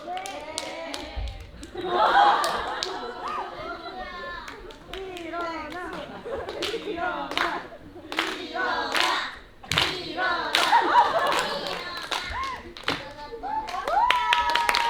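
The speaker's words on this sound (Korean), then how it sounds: "여러분 콩수에게 다시 한번 큰 박수 부탁드리겠습니다." Enthusiastic live applause and clapping from an audience at a hip-hop cover stage performance, sustained across the clip with scattered cheers and children's voices, while a host speaks over it.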